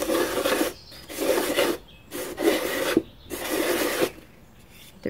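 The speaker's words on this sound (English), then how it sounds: "I'm just going to sand it back." A plaster room diffuser is sanded by hand with 400 grit sandpaper, giving four steady rasping strokes with short pauses between them, close and fairly loud with no talking.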